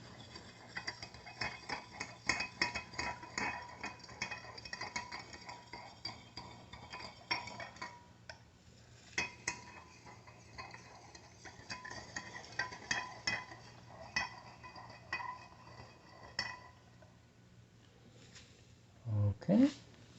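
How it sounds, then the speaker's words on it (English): A spoon stirs an Epsom salt and water mixture until the salt dissolves, making repeated light clinks and ticks against the container, with a voice speaking at times. "Let's stir the mixture. Make sure that all the Epsom salt is dissolved."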